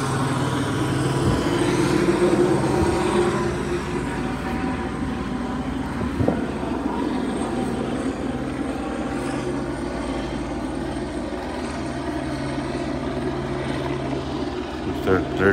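Police helicopter circling low over backyards of houses in La Puente, a steady droning rotor and engine roar that stays loud throughout, with someone talking over it.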